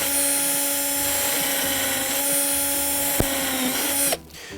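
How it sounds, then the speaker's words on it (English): Power drill boring pilot holes in wood for a child's wooden chair, a steady close whine with a sharp click near the end before it cuts off abruptly. "then drill some pilot holes"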